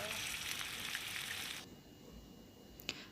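Beef tongue drops into spice paste already frying in a pan, a soft steady sizzle that cuts off partway, leaving a quiet hiss with a small clink near the end.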